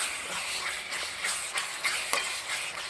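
A spoon stirs salted pork curry masala in a hot pan, a sizzling hiss running continuously beneath light scraping strokes, close and moderately loud with no talking.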